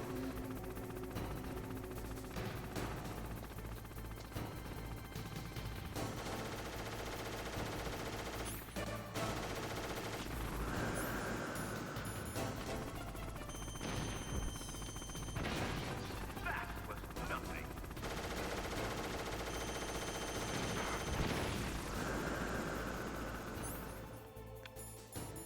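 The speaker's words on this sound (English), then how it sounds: "Wait for him to fire again." Enemy gunfire and combat noise in the video game Metal Gear Solid, steady rattling shots and impacts under a continuous game soundtrack, with a voice speaking over it.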